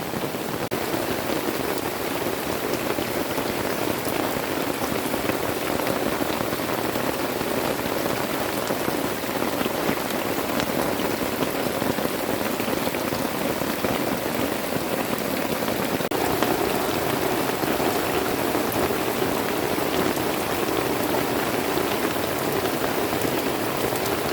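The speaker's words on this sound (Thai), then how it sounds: "ฝนตกฟ้ากระนอง" Heavy, steady rain pours down continuously in a forest, a dense roar of drops hitting surfaces all around with no break.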